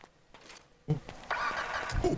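A car engine cranking and catching in GTA 5, a short starter whir followed by the engine settling into a steady idle hum, fairly quiet and close.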